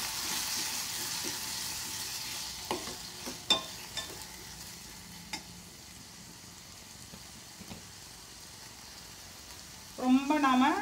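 Tomatoes go into a pan of simmering vazhaikkai puli kulambu and fry with a steady close sizzle, punctuated by a few sharp spatters and stirring clicks, and a voice comes in briefly at the very end.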